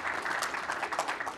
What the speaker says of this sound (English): Please clap for Vietnam vets